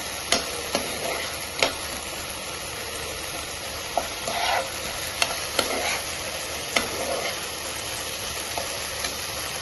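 Tomato and onion stirred and fried together in a pan, a steady sizzle with scattered sharp ticks of a spoon against the pan throughout, alone and close.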